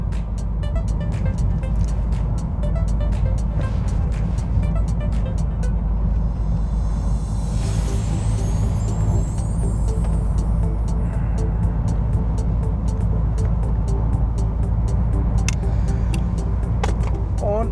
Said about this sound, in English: On our way to Särna, we are now stuck behind this big truck.